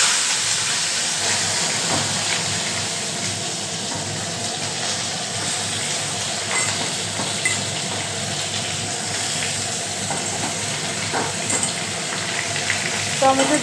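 Tomatoes hit hot oil with bay leaf in a pan for tomato chutney, producing a steady steamy hiss and sizzle with light stirring clicks, close and continuous throughout.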